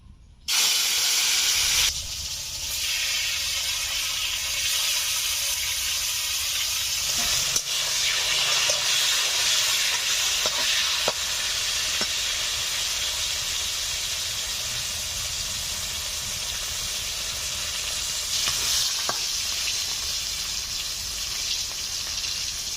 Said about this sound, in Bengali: তেল গরম হয়ে গেছে, উচ্ছেগুলো ভেজে নেব।